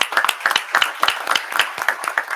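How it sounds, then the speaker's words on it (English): Audience at a university system board of supervisors meeting clapping, short sparse rhythmic claps from a small group, close and fairly loud. "Let's give him a round of applause."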